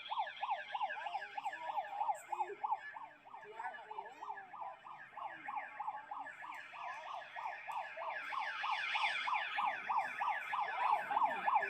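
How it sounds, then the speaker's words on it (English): A cheap Dollar Tree bullhorn plays a rapidly warbling alarm siren at a protest, the wavering electronic tone repeating steadily for about twelve seconds and growing slightly louder toward the end, with faint voices beneath. "We're gonna use our Dollar Tree bullhorn and play the alarm sound."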